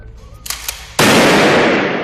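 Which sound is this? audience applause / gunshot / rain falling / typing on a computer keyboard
gunshot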